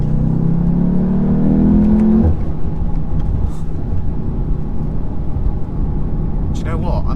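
A 2017 Audi TTS accelerates hard on a road, its engine note rising strongly then dropping at a gear change into a steady, loud drone heard from inside the car.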